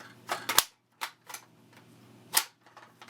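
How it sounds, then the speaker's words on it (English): A rifle magazine locking into place, heard as a few sharp metallic clicks and clacks close by, with short quiet gaps between them and no talking. "Locks into place. Mag release."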